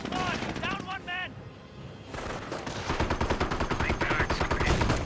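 MG-42 machine gun fire in the WWII strategy game Company of Heroes: brief voices at the start, then a dense, steady stream of rapid rattling bursts that grows louder toward the end.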